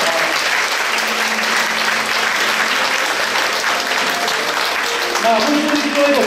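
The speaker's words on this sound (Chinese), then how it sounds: "我们用热烈掌声拍手欢迎" A church congregation at an anniversary thanksgiving service claps warmly and steadily, a dense sustained applause filling the hall, with a voice speaking over it.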